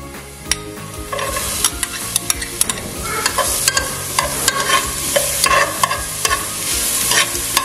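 Garlic and onion sautéing in a pan for a lasagna meat sauce, a steady sizzle broken by repeated sharp scrapes and clicks of a stirring utensil, close and loud throughout.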